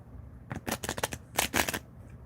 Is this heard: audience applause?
no